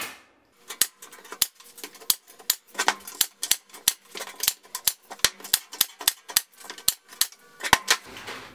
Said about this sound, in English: all I'm doing is catching one of the wires with the staples as I staple it